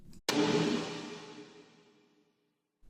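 A single sharp percussive hit with a noisy, crunchy attack that rings and decays slowly over about two seconds, followed by silence.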